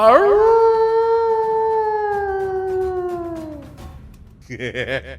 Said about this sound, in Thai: ค่ำคืนคล้อยดึกแววเสียงสุนัขป่าหอนโหยมาแต่ไกล